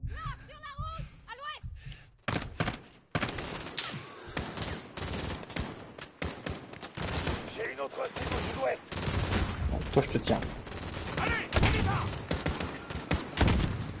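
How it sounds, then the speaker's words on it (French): Rapid bursts of gunfire and explosions fill a Call of Duty Modern Warfare match, dense and loud throughout, with players talking over the shooting. "Ça tire là."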